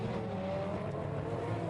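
Audi race cars compete at Navarra in a 2011 Blancpain Endurance Series round, their engines a faint, distant continuous roar with a thin high whine and no voices.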